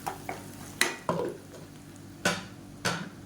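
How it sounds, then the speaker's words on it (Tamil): Ground paste for a vegetarian fish curry is sautéed in an oiled pan over medium flame, with a spoon scraping and knocking against the pan in a few soft, uneven strokes over a faint sizzle. "அந்த அரைச்ச பேஸ்ட்டையும் சேர்த்து வதக்கி விட்டுக்கணும்"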